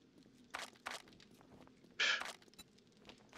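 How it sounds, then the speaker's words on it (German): A few soft, scattered footsteps land in the quiet game world of 7 Days to Die, followed by a brief brighter rustle, all faint and without talking. "Ich höre Schritte."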